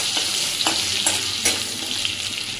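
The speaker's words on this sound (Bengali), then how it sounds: "একটু নেড়ে চেড়ে নেব।" Chopped garlic and ginger fry in the oil left from frying chicken, with a steady close sizzle and a few distinct scraping stirs of the spatula spaced through it.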